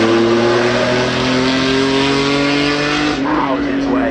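A Lunaz reimagined Rolls-Royce drives past the commentary box at the Goodwood Festival of Speed, a loud close engine roar that holds steady and then fades as it passes, with a commentator talking over it.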